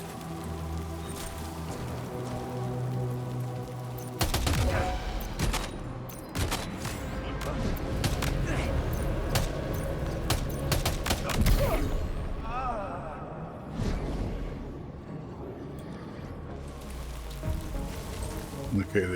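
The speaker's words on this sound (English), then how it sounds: "Okay, the enemy heard a gunshot." Video game gunfire crackles in a dense run of sharp bursts and volleys, loud and close, with rattling impacts and game noise filling the gaps while players talk over it.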